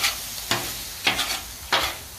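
Ground meat and vegetables for a nacho taco salad brown in a hot pan, a steady sizzle broken by three scraping stirs spaced about half a second apart, close by and with no voices.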